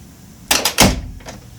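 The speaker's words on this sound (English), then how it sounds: "Doors closing." A hotel room door at the New Yorker Hotel swings shut, with a couple of quick latch clicks followed by a solid thud, close and fairly loud in a quiet room.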